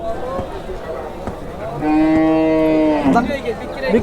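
Cattle mooing at a busy Bangladeshi cattle market before Eid al-Adha, one long loud drawn-out moo rising from the middle of the clip over steady crowd murmur.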